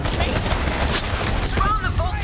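Rapid friendly gunfire in the video game Borderlands 3, a dense continuous volley of shots and booms with a voice talking over it.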